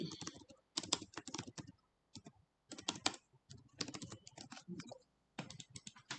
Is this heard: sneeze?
no